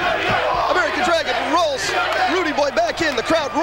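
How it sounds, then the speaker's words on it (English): A wrestling arena crowd roars and cheers in a steady, dense wall of noise, while an excited commentator's voice rises and falls over it throughout. "the crowd roars its approval"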